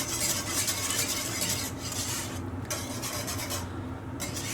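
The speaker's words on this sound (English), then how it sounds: "we'll just keep on stirring to make sure there's no lumps in there" Red velvet ice cream base being stirred in a pot, a continuous close scraping and swishing of a utensil against the pot, steady and unhurried with no talk.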